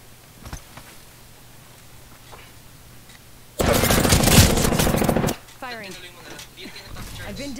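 Automatic weapon fire in the video game Apex Legends, a loud, dense burst of rapid shots lasting under two seconds, followed by a voice and quieter game sounds.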